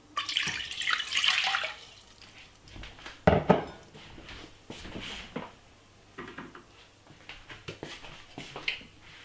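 Water poured into a cooking pot for Jamaican cornmeal porridge: a splashing, trickling pour near the start, followed by clinks and small drips, with no talking.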